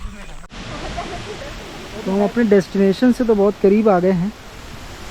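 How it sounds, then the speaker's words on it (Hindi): Steady broadband rush of a waterfall at Mainpat hill station, heard along a slippery descending trail, running continuously and fairly close beneath someone talking. "झरने की आवाज़ आप सुन सकते हैं जो आ रही है।"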